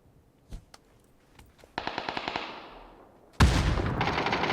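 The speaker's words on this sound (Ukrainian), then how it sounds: "Кидаю гранату." A grenade bursts in a heavy, close blast in a shooter game, after a few scattered shots and a rapid burst of automatic gunfire that trails off, followed by sustained rumbling fire.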